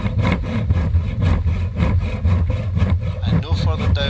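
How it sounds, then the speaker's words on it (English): A hand saw cuts wood for a housing joint in steady, rhythmic back-and-forth strokes, close and fairly loud, with a scratchy rasp on each pass. "The sawing action itself doesn't take much downward pressure"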